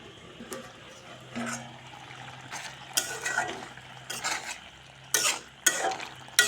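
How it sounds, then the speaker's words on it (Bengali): Potato and pumpkin stem curry with mustard paste being stirred in a pan, with a string of scraping, clattering strokes and short bursts that get louder toward the end over a low, steady hum. "এখন ঢাকনা উল্টে আবার নেড়ে দেব।"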